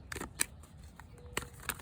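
Tarot cards being shuffled by hand, a few quick, soft riffling and slapping bursts separated by near silence, close and faint.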